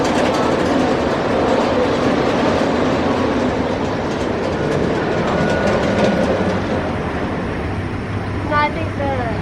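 Roller coaster train at Indiana Beach amusement park rumbling and clattering along its track, a continuous loud roar with rhythmic clacking, joined by faint screams near the end.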